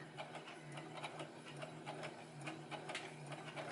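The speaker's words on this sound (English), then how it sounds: "Take your time with your sewing machine." A sewing machine stitches a lace wig cap together, running in a steady rapid ticking rhythm close up, with no voices.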